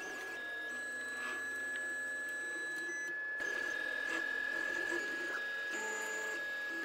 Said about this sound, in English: The printer can also continue with its job after a power outage.